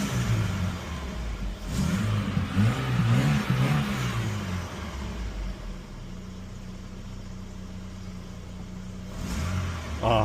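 A 2000 Chevy S10 engine runs after new spark plugs and wires, revving up briefly before settling into a smooth, steady idle, fairly close and alone.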